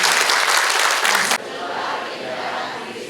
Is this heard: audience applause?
yes